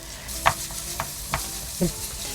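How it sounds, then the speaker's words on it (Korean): A heaped spoonful of minced garlic gently sizzling in perilla oil over medium heat for a pumpkin stew, a soft bubbling hiss broken by a few distinct clinks and scrapes of stirring. "마늘이 바글바글 끓고 있죠."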